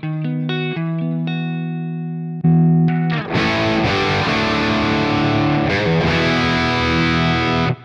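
Electric guitar through a VX Kraken MKII, first ringing clean single notes and chords, then switching to a louder, gritty crunch riff, played alone.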